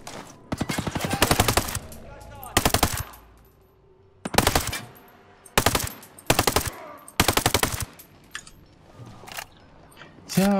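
Automatic gunfire in Ghost Recon Breakpoint, sharp rapid bursts of several shots each, separated by short pauses, loud and close.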